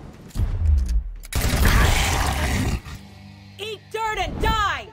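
Pistol shots and bursts of gunfire from a combat video game ring out loud and close, a sustained volley followed by a few sharper cracks, mixed with game voices and growls.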